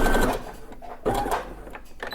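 An electronic sewing machine top stitches fabric for a pleated face mask, its needle chattering in quick close bursts that pause and start again over about two seconds.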